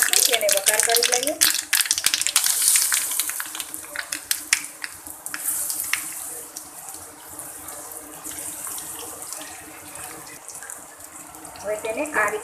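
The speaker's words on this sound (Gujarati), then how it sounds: "પાત્રા નાખી તેને વઘાર કરી લઈએ" Steamed patra colocasia-leaf rolls hitting a hot tempering of oil, mustard seeds, cumin and sesame, giving a loud hiss and sizzle that gradually settles into a steady fry, with speech over it.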